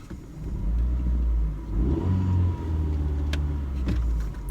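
A Chevrolet Lacetti car engine revs up on an open road toward about 3000 rpm, a loud, steady mid-pitched drone that swells, dips briefly and climbs again, with no voices.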